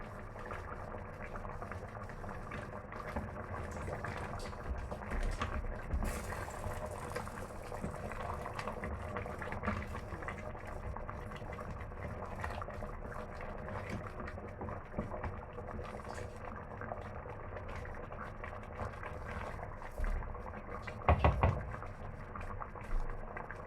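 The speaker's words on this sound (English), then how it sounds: "cover it to boil for some time" A covered pot of bitter leaf soup with locust beans boils steadily, giving a continuous bubbling simmer with a few louder thumps toward the end and no talking.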